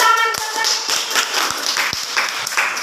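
A classroom group claps hands together, a brief burst of scattered, close claps with a few sharper taps, following a short voiced tone at the start.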